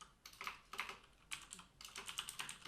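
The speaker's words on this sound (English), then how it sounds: "I'm going to go ahead and type in exactly that URL" A web address is typed into a browser on a computer keyboard as quick runs of soft, close keystrokes in three short bursts, with no voices present.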